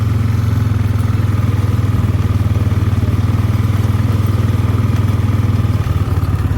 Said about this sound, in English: The ATV I'm riding on right now is a 2009 Honda Rancher.